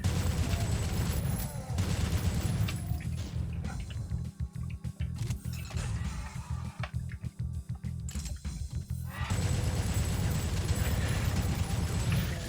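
Dense, continuous combat noise in Doom: heavy shotgun blasts with roaring monsters and chain-gun fire pile up in a loud, unbroken barrage that thins briefly in the middle before swelling again.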